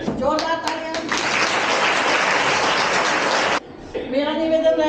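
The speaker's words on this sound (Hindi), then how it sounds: "जोरदार तालियां।" A burst of loud applause from an audience at a career counselling speech at GGIC Kotdwara, steady dense clapping for a few seconds, with speaking voices just before and after it.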